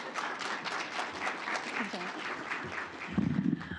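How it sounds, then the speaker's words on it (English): A conference audience breaks into a round of applause at the lunch break, a dense wash of clapping over room murmur that swells louder near the end. "Big round of applause."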